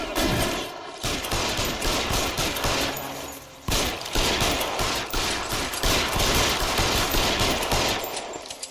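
Rapid bursts of gunfire crackle in L.A. Noire during a shootout, loud sustained volleys with a brief pause before the shooting resumes.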